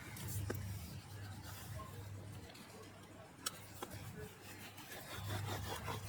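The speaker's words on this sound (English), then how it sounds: "even it out. And then burnish it down." Paper is burnished down onto a wedding album page with repeated back-and-forth rubbing strokes, faint and close, with a couple of small ticks and taps between passes.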